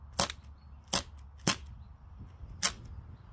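Four sharp shots from a six-shot CO2 BB gun, spaced unevenly about half a second to a second apart, each a crisp snapping crack over low room noise.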